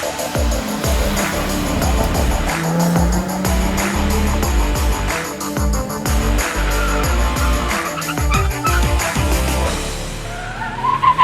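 Autocross race cars run a night race at Pasig Parklinks in Manila, engines droning and revving loudly throughout with shifting pitch as cars pass, a busy, continuous roar with no talk.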